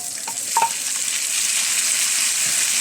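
Red and green capsicum sautés in a pan while being stirred, a loud, close, continuous sizzle with a couple of brief utensil clinks near the start.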